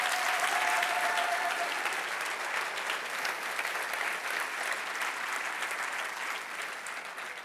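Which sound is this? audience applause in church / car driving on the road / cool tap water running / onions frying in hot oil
audience applause in church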